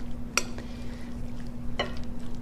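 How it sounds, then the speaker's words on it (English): A cream cheese and shredded cheddar mixture is stirred in a bowl, with two sharp utensil clinks against the bowl over soft, low scraping, close and alone. "I'm just going to give this a stir to get it all mixed up"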